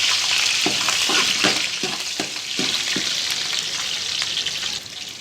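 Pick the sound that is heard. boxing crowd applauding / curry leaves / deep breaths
curry leaves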